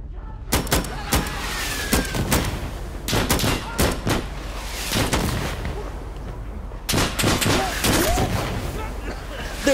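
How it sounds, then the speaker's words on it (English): Gunfire in the game Insurgency: repeated sharp, loud shots and bursts in irregular clusters, some close and some echoing, over a low background rumble. "There's people shooting at us."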